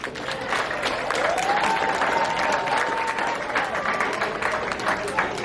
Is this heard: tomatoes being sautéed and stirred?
no